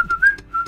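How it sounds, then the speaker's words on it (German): A person whistles a short, clear tune of sliding notes in three quick phrases, close and fairly loud, with no talking. "wer hat da gepfiffen, aber warst du das?"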